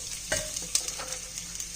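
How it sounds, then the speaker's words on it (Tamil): Onion, green chilli and curry leaves fry and sizzle in a pan, with a steady hiss broken by a few sharp stirring clinks and scrapes of a spoon, close and moderately loud, no talk. "ஸோ இப்போது ஆனியன், பச்சை மிளகா, கருவேப்பிலை இது மூணுத்தையும் போட்டுக்கலாம்."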